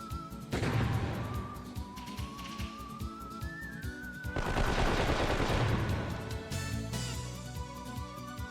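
Gunfire in the Wild Arms 3 video game: rapid bursts of shots in two main volleys, loud and dense, with a rising whistling tone between them and no talking.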